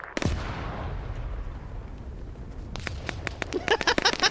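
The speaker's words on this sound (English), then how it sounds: "They're hitting HE shells in there now" A high-explosive shell blast in Arma 3 opens with a sharp thump and a rumbling decay, then a flurry of crackling impacts and pops builds toward the end, with no voices.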